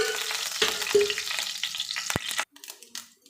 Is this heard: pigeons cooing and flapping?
no